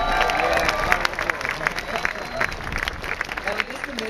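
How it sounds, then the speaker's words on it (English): Rally crowd at an equal marriage rights rally in Sydney applauding outdoors, dense steady clapping with some cheering and crowd noise sustained for a few seconds. "So a huge round of applause for Lara as well."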